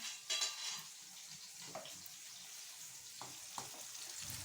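Steady, soft sizzling of eggplant frying in oil, with a few faint clinks and kitchen clatter over the continuous crackle.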